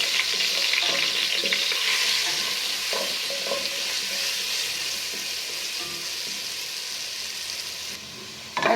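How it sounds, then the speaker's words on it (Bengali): Potato pieces sizzle steadily in hot oil in a pan with turmeric and salt, a dense continuous frying hiss with occasional soft stirring clicks, close and alone without talk, dropping slightly near the end. "এখন আমি আলুগুলি লাল করে ভেজে নেব।"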